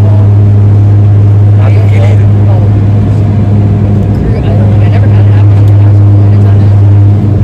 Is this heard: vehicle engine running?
yes